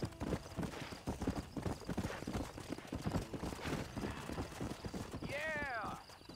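Horse in Red Dead Redemption galloping with steady rhythmic hoofbeats throughout, a voice talking over it, then a sharp neigh near the end.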